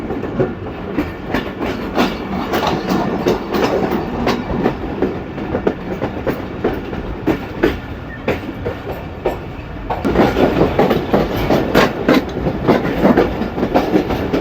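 The Pakistan Express runs on the rails near Chaklala station in a continuous loud rumble with rhythmic clickety-clack wheel beats, growing louder near the end.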